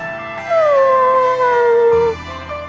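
A dog howls in the video game Bravely Default II, one long, loud, sliding wail that rises and then slowly falls over a soft game background, with no voices.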